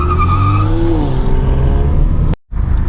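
A 2021 Honda Civic Type R with stability control switched off launches hard, its engine note climbing loud and close through the revs before a sudden cut at a shift, then pulling again.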